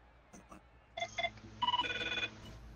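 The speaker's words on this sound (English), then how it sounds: "That's my phone going off, alerting me." A phone goes off with an electronic alert tone: a few short bright chirps, then a longer melodic ringing phrase, heard close after a brief murmur of voice.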